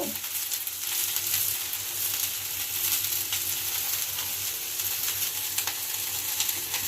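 Drumstick stalks frying in a pan while being stirred, a steady even sizzle with faint scrapes and clicks of the spatula against the pan, moderate in level with no talking.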